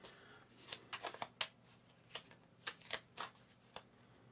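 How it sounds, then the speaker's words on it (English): A deck of game cards for the board game I, Napoleon being shuffled by hand at close range: irregular bursts of crisp riffling and slapping, quiet and with no voices. "Just try and get a decent shuffle out of these."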